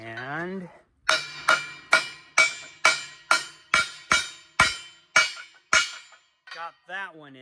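A hammer pounds pins in with about a dozen sharp, ringing metallic strikes in a steady rhythm, each decaying quickly, close and loud, with a short bit of talking before the strikes.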